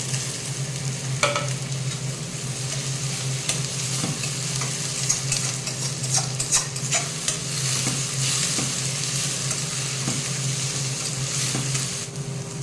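Onions frying in a pan with chopped tomato going in for a local chicken curry, a steady close sizzle with repeated scraping stir strokes throughout and no talking.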